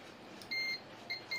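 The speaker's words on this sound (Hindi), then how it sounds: "अब हमने मल्टीमीटर को बजर मोड पे सेट कर लिया है" A multimeter in buzzer mode, used to probe a Redmi 8A phone circuit board, gives three short, high, clean beeps: a longer one first, then two quick ones close together over quiet background hiss.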